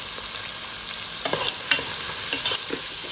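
Tomatoes and onions frying together in a Sri Lankan Tamil-style fish curry base, a steady close sizzle broken by a few sharper scraping stirs of the spoon, no voices.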